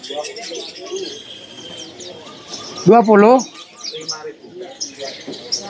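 Several birds chirp and call at a bird market, with one loud warbling call up close, while people talk over the chatter throughout; the birds on sale include a kaso-kaso.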